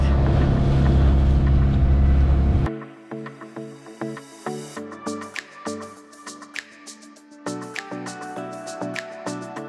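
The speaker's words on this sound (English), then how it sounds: "Our boat is going." A boat engine rumbles loudly and low for a few seconds as the boat departs from a water villa in the Maldives, then cuts off abruptly, followed by soft melodic tones.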